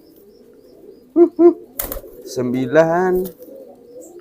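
A racing pigeon coos twice in short, close bursts, followed by deeper, drawn-out cooing over a quiet background, with a voice briefly counting.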